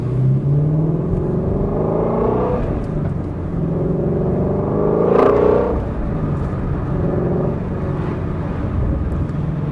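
A Ford Mustang Shelby GT350 with a manual clutch, its engine droning steadily and loudly from inside the cabin as the car is driven, rising in a brief rev swell midway, with no talking.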